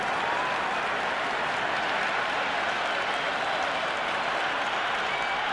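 A cricket crowd at an IPL match between DC and LSG cheers and applauds a shot, a loud, steady roar of clapping and voices that fills the whole stretch.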